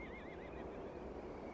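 A horse whinnies in a high, wavering call in Octopath Traveler II, faint and steady against a low background hum.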